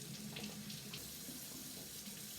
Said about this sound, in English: I run it under hot water